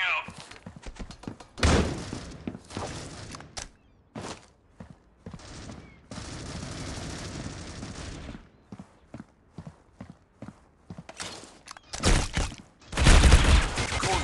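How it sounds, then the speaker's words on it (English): A flashbang grenade and gunfire in the mobile shooter Critical Ops, with sharp bursts and rapid shots in clusters, a sustained hiss, and loud blasts near the end, under occasional speech. "Flashbang out."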